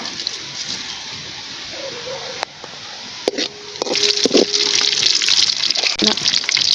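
Cinnamon, fennel and cumin hit hot oil for a Tamil quail pepper fry, giving a broad hiss that swells into a louder, steady sizzle about halfway through, with a few faint clinks.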